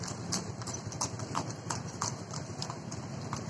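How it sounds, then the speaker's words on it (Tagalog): Horse hooves clip-clop in a quick, steady rhythm on a hard surface, each strike crisp and close, continuing for a few seconds against light background noise. "Yung kabayo."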